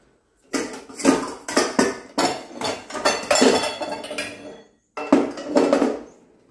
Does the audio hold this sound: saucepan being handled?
yes